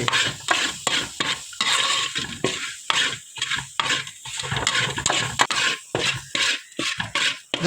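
Maggi masala being stirred into egg noodles in a pan, a steady run of spoon scrapes and stirring strokes with a faint sizzle underneath, close and fairly loud with no talk.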